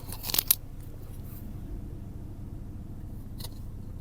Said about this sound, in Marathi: 700-800 RPM वरती गाडी आहे आणि आवाज नोटीस करा